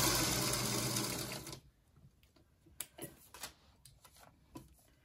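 A sewing machine runs steadily and loudly for about a second and a half while stitching foundation paper-pieced quilt block fabric, then stops, leaving scattered light clicks and handling taps.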